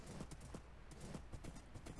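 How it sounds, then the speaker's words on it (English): Horse hooves clip-clopping in the Minecraft video game during a ride, a steady quick rhythm of soft knocks over a constant low background hum, with no talking. "We'll take a little horse ride tonight."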